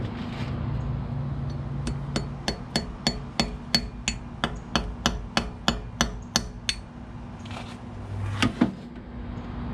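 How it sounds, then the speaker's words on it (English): A hammer taps a Harbor Freight extractor bit into a broken bolt or stud: about fourteen sharp metallic strikes in a steady, close rhythm, followed by a short pause and a couple more knocks. "I'm gonna tap it in with the hammer"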